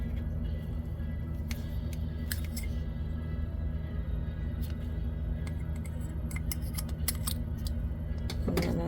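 Scissors snip crochet yarn in several brief, sharp cuts spread irregularly over a steady low background hum, with no talking.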